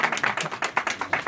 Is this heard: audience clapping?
yes